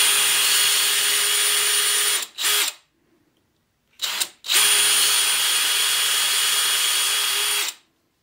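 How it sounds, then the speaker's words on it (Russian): A power drill with an 8 mm bit and depth stop whirs loudly at high speed, stops briefly with a short burst, then runs again in a long steady drilling pass. "берем восьмое сверло и выставляем упор"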